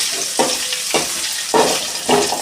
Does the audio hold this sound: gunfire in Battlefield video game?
no